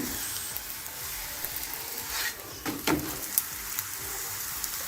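An egg paratha frying in hot oil in a pan over a low flame, a steady close hiss of sizzling with occasional soft pops and crackles, with no talking.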